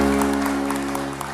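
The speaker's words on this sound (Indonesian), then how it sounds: "Tepuk tangan, bagus sekali." Brief burst of clapping from an elderly audience at a community gathering in Singaraja, heard over a sustained musical drone or accompaniment, close and fairly loud.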